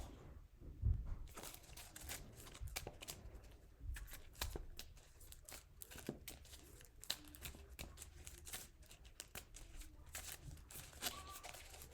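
Trading cards from a Redemption collectible card game being shuffled into a deck, with a long, continuous run of close, crisp riffling and flicking and no talking.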